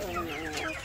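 Free-range village chickens clucking close by in a short, steady burst of overlapping calls, with no talk.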